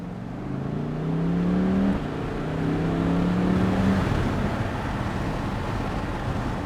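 A C8 Chevrolet Corvette accelerates hard from inside the cabin, the engine note climbing through two rising pulls separated by a brief shift. It settles into a steady, loud drone.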